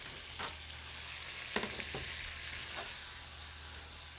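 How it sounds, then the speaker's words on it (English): Foie gras sears in a hot pan with a steady, close frying sizzle, broken by a few soft clicks and stirring scrapes, and no voices. "sear this foie gras"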